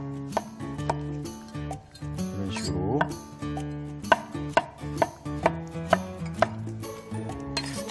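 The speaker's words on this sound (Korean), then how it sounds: "이 버섯 칼질할 때 그 느낌이 너무 부드러워서 좋더라고요." A kitchen knife slices king oyster mushrooms on a cutting board. Soft, regular taps build into an even chopping rhythm while a person talks alongside.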